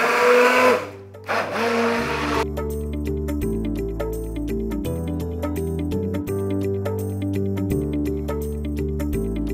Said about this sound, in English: I'm using my blender here. I'm mixing everything together and the ayran will be ready too.